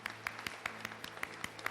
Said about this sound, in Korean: 우리 건강하시라고 경제의 박수 한번 하죠.